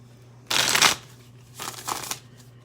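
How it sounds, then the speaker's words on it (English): Two bursts of tarot cards being shuffled, a long riffle followed by a shorter, choppier one, close and fairly loud against quiet background hum. "one more shuffle."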